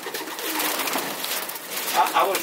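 Racing pigeons coo softly and continuously inside a loft, with a faint rustle of movement and a few sharper calls near the end.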